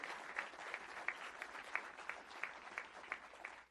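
Applause from an audience at an awards evening at the U.S. Navy Memorial honoring a Naval Academy baseball team, a soft, even spread of clapping with a few louder nearby claps standing out.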